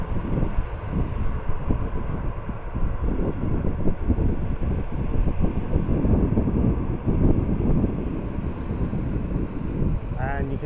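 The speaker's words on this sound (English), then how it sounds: "It's an Airbus A321-211." An Airbus A321-211 jet passing near Arrecife Airport on Lanzarote: a sustained, broad engine roar with wind buffeting the microphone, fairly loud throughout.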